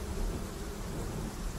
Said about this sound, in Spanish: empapado por la lluvia que no había disminuido su intensidad desde que la tormenta comenzara